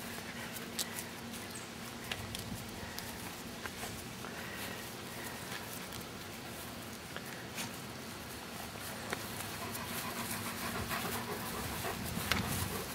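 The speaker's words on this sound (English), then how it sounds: "See Flash with his Basset friend, Baxter." Dogs, one of them a Basset hound, pant steadily and quietly close by, with soft pattering and shuffling movements underneath, and no talking.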